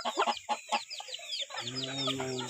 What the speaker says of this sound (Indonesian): Ini ayam saung guys. Ini ayam Filipin.